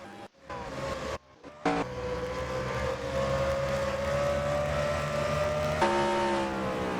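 Race cars lap the Phoenix oval in a racing video game, a steady layered engine drone with pitch gliding as the pack circles, a few brief cuts in the sound, continuous and fairly loud.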